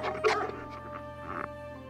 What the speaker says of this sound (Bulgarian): Това са кучета, брат, чуваш ли?